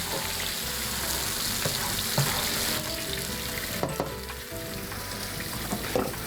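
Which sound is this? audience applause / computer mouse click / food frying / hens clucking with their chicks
food frying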